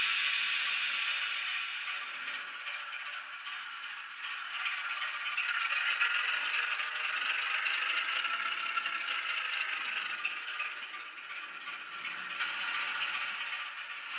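A temperamental model Class 08 locomotive running on two sets of rolling road rollers makes a steady, fine mechanical rattle and whir that holds for about 14 seconds, swelling slightly in the middle.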